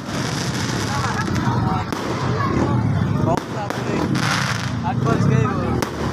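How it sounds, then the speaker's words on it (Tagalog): A constant wash of fireworks bursts and crackles from many directions fills the air at a steady level, with people talking over it. "Grabe, million ka fireworks na sa lubad."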